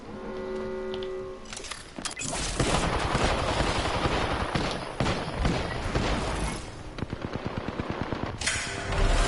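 Gunfire in Apex Legends, heavy bursts of rapid shots with booming impacts, a brief pause, then a rhythmic string of evenly spaced rounds and a final loud volley.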